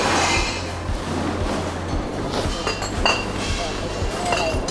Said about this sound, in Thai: นี่จะเป็นพวกขวดเบียร์นี่เนาะ